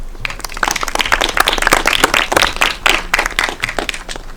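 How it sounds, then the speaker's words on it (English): A conference audience bursts into loud, close applause, many hands clapping rapidly and evenly for several seconds without letting up. "A big round of applause, please."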